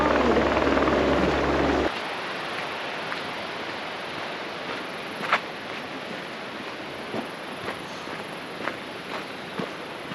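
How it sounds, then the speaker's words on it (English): A steady broadband rotor roar of a search and rescue helicopter flying overhead on the John Muir Trail fills the clip, with a few faint knocks and footsteps nearby. "Search and rescue helicopter, and they're like right over there."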